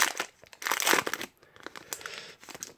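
Crinkly foil of a Pokémon card booster pack being handled and torn open up close, in short bursts of crumpling and ripping separated by brief pauses.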